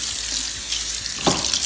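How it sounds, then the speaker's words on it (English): Tap water runs into a white cast iron kitchen sink, rinsing food out in a steady close rush with brief splashes, and no talk over it. "let's go ahead and rinse out the food that's sitting here"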